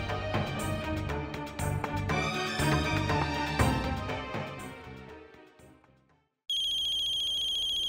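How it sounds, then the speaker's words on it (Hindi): A phone ringtone plays a melodic tune for several seconds, fades out, then a steady electronic ring starts up again, loud and close. "स्कूल टीचर का फोन है"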